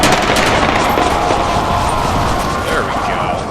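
Dense, continuous gunfire from a World War I era strategy game, To End All Wars, runs loud and unbroken through the whole stretch, with a voice speaking over the shooting.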